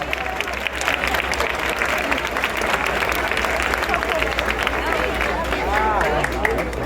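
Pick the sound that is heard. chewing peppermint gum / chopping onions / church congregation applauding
church congregation applauding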